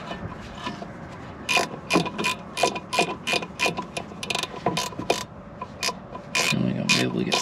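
A ratchet wrench clicks in a steady, rapid rhythm during a brake job on a 2013 Ford Escape, with a dozen or so close, sharp ticks and a brief mechanical scrape at the end.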